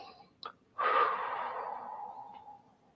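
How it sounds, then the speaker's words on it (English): A deep breath during an energy healing meditation: a brief sniff, then a long close inhalation that slowly fades, with no talking over it. "Okay, deep breath in."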